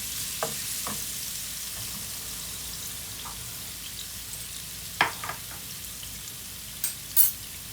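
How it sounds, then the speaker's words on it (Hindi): Garlic-ginger paste fries in about half a cup of oil in a pan, the start of an arvi gosht curry. A soft, steady sizzle runs throughout, broken by a few faint pops and a couple of sharper clinks near the end. "मैंने एक पैन लिया, उसमें मैंने हाफ कप के करीब ऑयल डाला है और ये लहसुन अदरक का पेस्ट डाल दिया है।"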